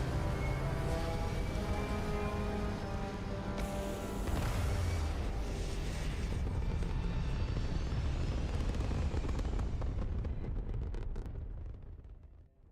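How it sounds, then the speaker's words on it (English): Spaceship retro rockets fire during a landing in the video game Starfield, a loud sustained roaring rumble with a surge partway through, holding steady before fading out at the end, with no talking. "Retro's firing. Orbit stabilized."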